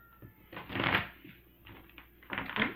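Cards are shuffled in a few quick riffling bursts, close and fairly quiet, with brief pauses between them.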